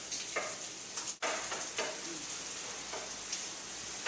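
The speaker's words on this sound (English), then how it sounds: "I got my Mediterranean vegetable medley just going real nice here" Mediterranean vegetables with onions, olives and garlic sizzle steadily in a pan, a continuous close crackling fry with one brief dropout, no talking.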